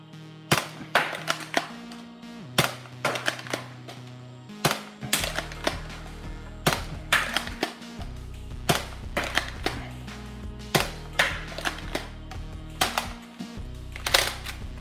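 Nerf blaster slam firing darts: a rapid series of sharp plastic snaps and clacks, close and crisp, in quick irregular volleys with brief pauses, no talking.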